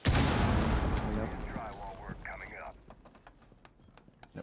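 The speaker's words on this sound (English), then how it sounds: "Throwing frag grenade." A frag grenade goes off during a competitive team shooter match, a loud booming blast at the start that fades into a rumbling tail, mixed with faint game sounds.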